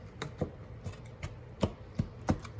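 A knife chops through food on a cutting board, cutting strips for burger sliders: about eight soft, evenly spaced thuds at a steady rhythm, quiet and close, with no talking.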